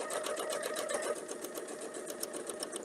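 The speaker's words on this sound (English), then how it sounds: "And then I can just sew right along until I get to that next spot." A sewing machine stitches along a quilting template with a fast, even mechanical chatter, close and steady for a few seconds with no talking.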